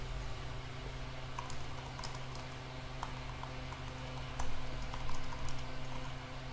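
Keys on a computer keyboard tapped in a steady run of light clicks over a constant electrical hum, closely miked and fairly faint, with a slightly busier patch of keystrokes near the end.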